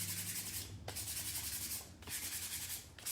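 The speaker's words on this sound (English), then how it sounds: "I'm not gonna do too much sanding" Sandpaper rubs over a painted chunky wooden leaf shape in three close, steady strokes, each a soft scratchy hiss separated by short pauses, with no voices.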